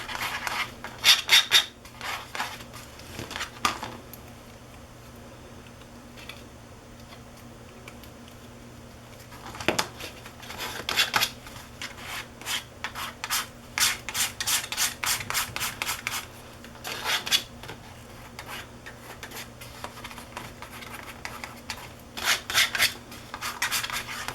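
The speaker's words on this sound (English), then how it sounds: "Another idea is to scoop your paint up with your palette and scrape it." A palette knife scrapes paint across a mixed-media art journal page in repeated short rasping strokes, near and fairly quiet, coming in bursts separated by brief pauses, with no talking.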